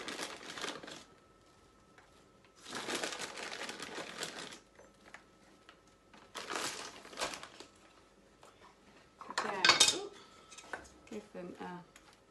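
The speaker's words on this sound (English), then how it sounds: "I'm just going to add some raisins." Two handfuls of raisins going into a pan of homemade granola, heard as a few bursts of rustling and scattering with quiet gaps between them and a brief clatter near the end.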